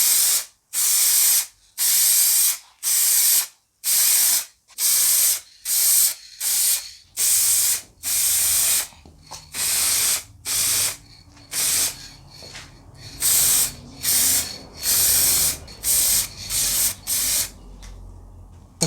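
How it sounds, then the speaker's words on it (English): Aerosol spray paint hissing onto car parts in a long run of short bursts, each a second or so, close and fairly loud with brief silences between. "then we'll start spraying"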